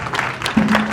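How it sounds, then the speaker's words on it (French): Audience at a school awards ceremony honouring top pupils and teachers in Gohitafla gives continuous applause, a dense even clatter of hands with a voice cutting through partway. "Applaudissements nourris"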